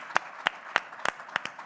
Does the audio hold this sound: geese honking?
no